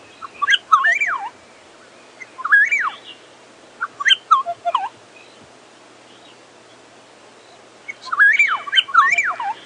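A bird gives several short gobbling, warbling calls in separate bursts, with quiet pauses between them and a soft background hiss, on a morning drive at Djuma Game Reserve, South Africa.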